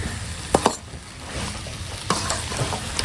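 Crab stir-frying with coriander in a pan, a steady sizzle under two brief spatula scrapes near the start and another pair around the two-second mark, no talk.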